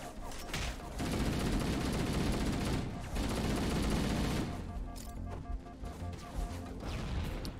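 Gunfire in the video game Halo 1, a dense continuous barrage of automatic shots and explosions with heavy low rumble, loud and sustained throughout with brief dips in intensity.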